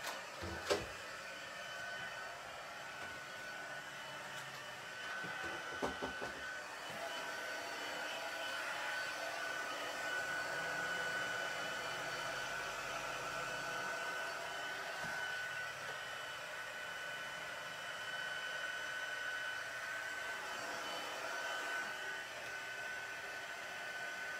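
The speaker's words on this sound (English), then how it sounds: "I'm gonna get my heat tool out. It'll take a minute because this is a large image" A crafting heat tool blows hot air in a steady, close, continuous whir that holds for the whole stretch, with a few faint clicks and handling bumps near the start.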